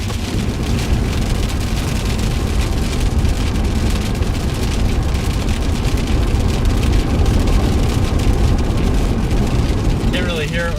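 Heavy rain drums loudly and constantly on a moving storm-chasing car during a thunderstorm, a dense, steady roar with road noise underneath that fills the whole stretch.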